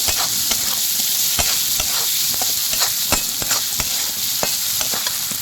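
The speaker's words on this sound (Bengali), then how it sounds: "একটু লাড়া লাড়াচাড়া দিয়ে মিশিয়ে নেব" Loud continuous sizzling as a spatula scrapes and stirs a potato and egg curry with fried potatoes in a frying pan, with regular knocking strokes against the metal and no voices.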